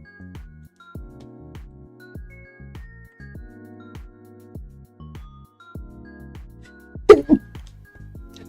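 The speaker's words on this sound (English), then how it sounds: "Apologies for the sneeze." A sharp, sudden sneeze bursts out near the end, followed by a quick second burst, over a quiet background of repeated soft knocking tones.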